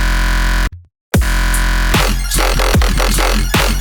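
Layered dubstep synth bass patch built in Serum 2, loud and dense, with a brief dropout of near silence before rhythmic wobbling bass hits and bright stabs return, alone without talk.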